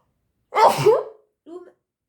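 A single loud sneeze, close by, followed by a brief softer vocal sound after a short pause.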